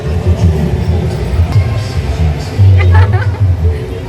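A toy train rolls along inside a shopping mall, its low rumble and faint clatter running beneath nearby chatter and a crowd's background babble.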